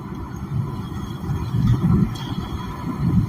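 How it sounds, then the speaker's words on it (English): Wind gusts and passing traffic on a main road make a low, rumbling wash that rises and falls in waves, with steady background noise and no voices. "I apologize for the wind and the traffic noise."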